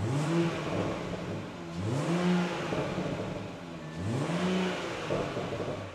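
BMW 116i hatchback fitted with a swapped B58 engine from an M2, revving in repeated rising sweeps, three throttle blips about two seconds apart, loud and close with a steady rumble between them.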